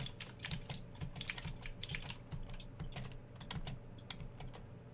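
Close, quick keystrokes clatter on a computer keyboard in bursts and brief pauses, crisp clicks over a low background hum.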